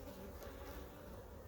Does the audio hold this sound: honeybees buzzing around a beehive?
yes